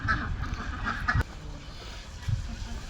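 Ducks by a large village pond quack in short nasal bursts, several calls scattered across a few seconds, fairly close against faint background noise.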